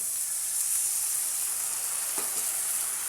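Masala with turmeric and a little water frying in a pan for Bengali mutton curry, a steady close sizzle and hiss with a couple of quick stirring scrapes near the end.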